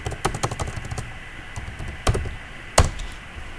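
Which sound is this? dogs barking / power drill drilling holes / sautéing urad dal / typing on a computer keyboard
typing on a computer keyboard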